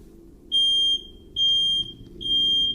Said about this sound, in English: The ghost seems to turn the smoke alarm on upon her mention.